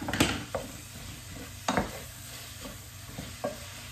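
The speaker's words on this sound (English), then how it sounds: "Let me give this a stir" Onions and ginger are stirred in a frying pan, with a low continuous sizzle broken by several sharp scrapes and taps of the utensil against the pan at irregular intervals and no speech.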